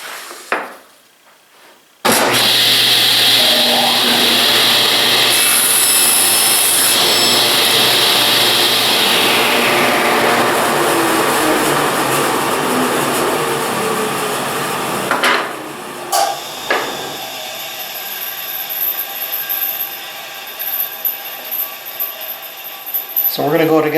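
Table saw cutting wood with a Bridge City Kerfmaker jig on a Biesemeyer rail: a loud, sustained whining cut that runs down over several seconds, followed by scattered knocks and handling noises as the blade winds down.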